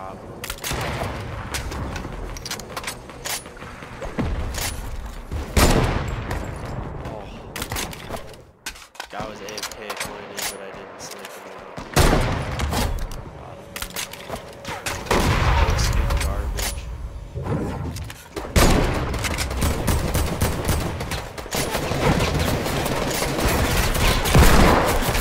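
Video game gunfire, with bursts of rapid shots in several loud clusters spread across the clip, mixed with lighter clicks and people talking over the action.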